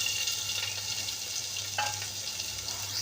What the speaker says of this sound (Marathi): कांदा आता छान परतून घेऊयात.